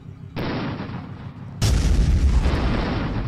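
A battleship and heavy cruiser firing salvos in the ICBM strategy game, heavy booming gunfire starting abruptly and then a louder barrage kicking in halfway, dense rumbling blasts with no speech.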